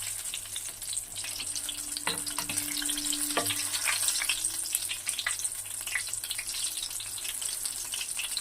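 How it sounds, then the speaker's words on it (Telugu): Potato-stuffed chili bajji frying in hot oil, a steady close crackling sizzle with bursts of bubbling throughout, no talking. "ఇలా కొంచెం ఎర్రగా ఫ్రై చేసుకోవాలండి బజ్జీలని"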